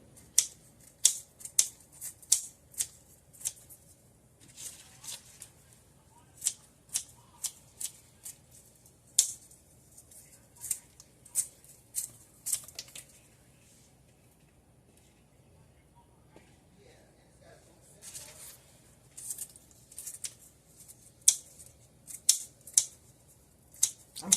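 Kitchen scissors snip crispy bacon strips straight into savory waffle batter, producing sharp, close clicking cuts in uneven bursts with a quieter gap midway, and a voice speaks now and then between the snips.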